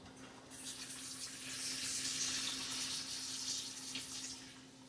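Water pours from a measuring cup into a pot of chicken thighs, baby potatoes, carrots and peas in broth, a steady close splashing pour lasting several seconds with a constant hum beneath.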